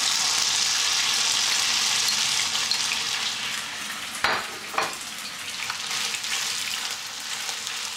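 Beef stir-frying in hot oil in a wok for a Chinese dry-fried rice noodle dish, a loud, steady broadband sizzle throughout with a couple of sharp bursts and clatters partway through as the meat is tossed.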